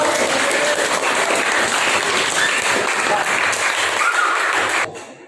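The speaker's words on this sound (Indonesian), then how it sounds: "Tepuk tangan buat" Students in a classroom clapping together in a dense burst of applause lasting about five seconds before stopping abruptly.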